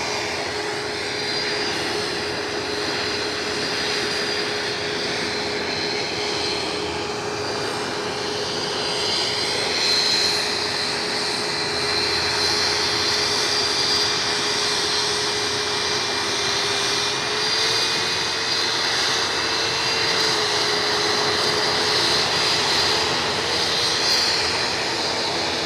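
Aircraft engines roar steadily at Edinburgh airport, a continuous loud drone with a sustained whine throughout, heard alone without talk.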